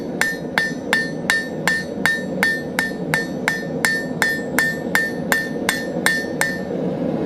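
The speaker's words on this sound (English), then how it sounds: "And what I'm doing is anywhere where I see a corner, I'm hammering that back in." A hand hammer strikes hot steel on an anvil while a round taper is drawn out, ringing blows landing in a steady, even rhythm of about fifteen strikes, close and loud with no talking.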